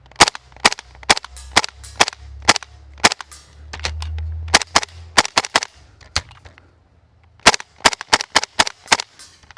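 Airsoft gun fitted with an EOTECH sight and magnifier firing in sharp close snapping shots, quick strings and singles with a short pause, over a faint low hum.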